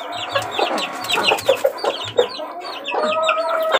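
Chickens cluck repeatedly and loudly up close in short, choppy bursts, with occasional higher calls mixed in and no talking.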